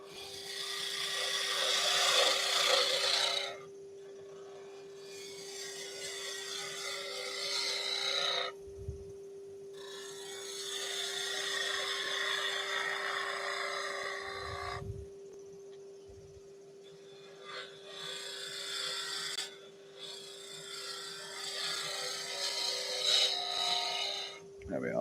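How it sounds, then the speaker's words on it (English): A wood lathe spins a small Christmas snowman spindle while a spindle gouge cuts it, giving a raspy scraping in bursts broken by short pauses. A steady motor hum runs underneath and a few low knocks sound, close and moderately loud. "Let's stop the lathe."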